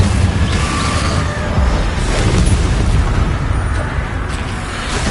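Confringo blast curses in Hogwarts Legacy make a loud, sustained explosive roar with deep rumbling booms layered over several seconds, no voices.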